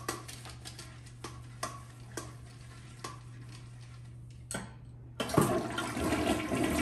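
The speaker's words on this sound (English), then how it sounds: "Flush the toilet." A household toilet flushes after the bowl has been scrubbed with a wand brush, and a rushing surge of water starts abruptly and fills the room. Before it comes a run of steady, faint, regular clicks.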